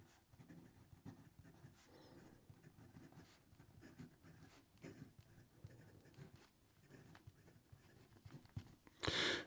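Fountain pen with a steel Jowo nib scratching across paper in a quiet room, a soft continuous scritch of strokes with brief pauses and a louder rustle at the very end.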